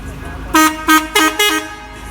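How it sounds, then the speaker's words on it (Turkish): Four loud, short car horn honks from a Volkswagen Golf Mk2 in quick succession, close by, over a low background rumble. "Bir de korna sistemi vardı bu arabada."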